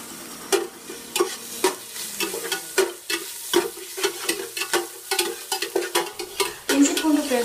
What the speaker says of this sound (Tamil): பிறகு அதில் 1/2 ஸ்பூன் இஞ்சி பூண்டு பேஸ்ட்டு போட்டு மிக்ஸ் பண்ணுங்க.